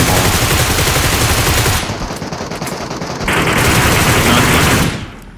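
Groza assault rifle fire in PUBG rattles in loud, dense automatic bursts that go almost unbroken, easing briefly in the middle before a sustained close-range burst resumes.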